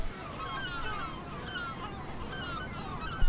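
Herring and great black-backed gulls call at a rocky breeding colony on Appledore, their overlapping honking, yelping cries steady throughout against a constant background wash.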